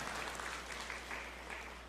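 A congregation at a church service claps in praise, a faint, steady patter of many hands held at an even level, with some low hum beneath.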